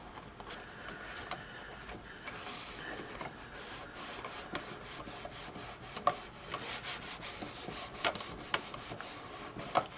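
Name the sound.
rubbing glued paper gift box tabs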